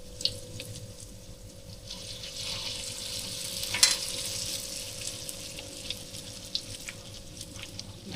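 Tofu pieces dropped into hot oil for fried stuffed tofu, a steady close sizzle and crackle of frying with a brief sharper spatter near the middle, no talk.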